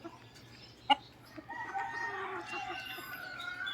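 Chickens and roosters, young birds of six to eight months among them, including stags, cluck and call in a farm yard. One sharp call rings out, and a steady chorus of clucking and crowing continues under it.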